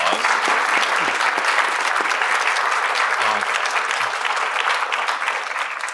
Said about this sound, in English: first let's give all three speakers a round of applause.